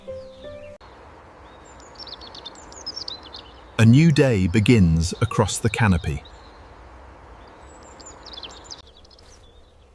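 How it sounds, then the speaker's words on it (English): Morning birdsong in a forest canopy: faint, high chirps and short trills in the background, fading in and out, while a narrator speaks over the middle of the stretch. "Morning fills the forest with light and birdsong."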